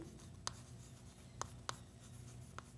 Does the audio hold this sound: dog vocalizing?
no